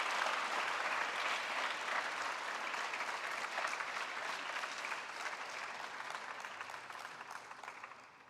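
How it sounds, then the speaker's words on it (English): Dense, sustained applause from a conference audience at a heart health event, a steady wash of many hands clapping that holds for several seconds and slowly thins toward the end. "Please give them all a big round of applause for their patient demonstration and teaching all of us."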